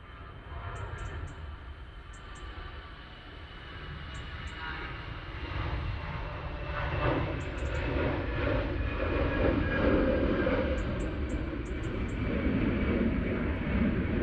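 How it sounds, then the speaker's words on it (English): An EasyJet airliner rolls down the runway at Manchester Airport, a steady broad engine roar that slowly builds and swells over the whole stretch, with faint higher chirps scattered through it and no one talking. "And I can hear a plane coming down the runway,"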